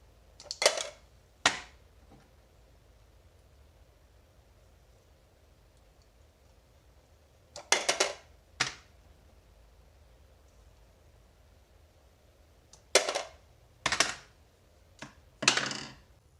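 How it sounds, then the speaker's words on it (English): Scissors cut sheet lead for making egg sinkers, giving short, sharp clusters of snips separated by long quiet pauses. "But the scissors do even a lot better job cutting the sheet lead up"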